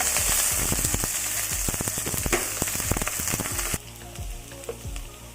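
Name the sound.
green chilli, garlic and onion sizzling in hot oil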